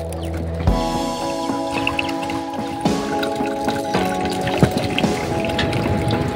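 Water poured and dripping into a cup or container, a steady close liquid trickle with scattered small splashes and drips, no talking.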